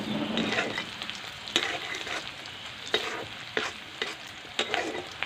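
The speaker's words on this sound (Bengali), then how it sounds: "তার জন্য পেঁয়াজটা রসুনটা আমি একটু কিছুক্ষণ ভেজে" Onion and garlic fry in a pan with a close, steady sizzle and repeated scraping stirs, marked by sharp clicks of the spatula against the metal, and no voices.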